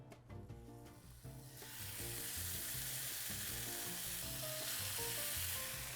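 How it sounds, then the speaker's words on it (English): Loud, steady sizzle of hot oil in a cast iron pan as a pork chop goes in, starting with a few crackles and then rising into a continuous frying hiss that holds to the end. "Should hear a good sizzle."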